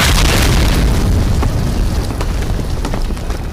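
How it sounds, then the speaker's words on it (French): A mountain summit shatters in an explosion: a loud, sustained, rumbling boom with a crackling, debris-like texture that fills the whole stretch without easing off. "Le sommet acheva alors de se briser dans une explosion"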